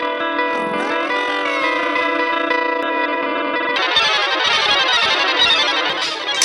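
Guitar run through the Output Portal plugin, a sustained effected tone that breaks partway into a dense, granular glitchy texture, loud and alone with no talk.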